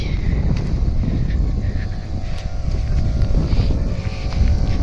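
A water pump fitted with a new motor running steadily, a loud continuous low rumbling drone with a slight buzzing hum and wind-like noise over it, close to the microphone.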